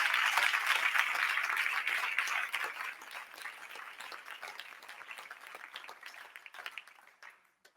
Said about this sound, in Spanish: Dele ese aplauso al Señor en esta hora.